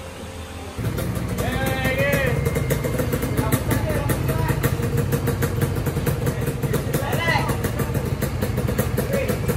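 A Yamaha RXZ motorcycle engine runs steadily and close throughout, a constant throbbing rumble with people talking over it.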